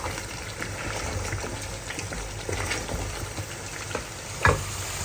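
Spice masala sizzles in a pan for a Bengali dish, with steady frying hiss, soft stirring scrapes, and one sharp metallic knock near the end; no one speaks.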